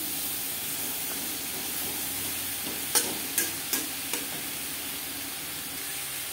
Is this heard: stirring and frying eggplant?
yes